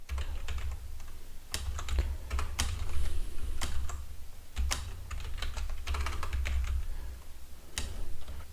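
Steady typing on a computer keyboard while entering database commands, a near, continuous patter of key clicks with a few sharper, louder strokes spaced through it.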